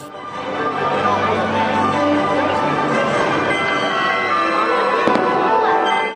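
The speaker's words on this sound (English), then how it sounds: "the waiting area for Space Mountain was the perfect spot to view the evening's fireworks" A dense, continuous rumble and crackle of evening fireworks bursting at a distance over Disneyland, with crowd noise under it and a sharper pop near the end.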